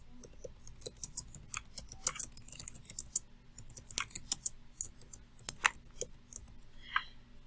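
Keys on a computer keyboard are typed in irregular bursts of sharp clicks, quiet and close, with brief pauses between runs and a faint background hum.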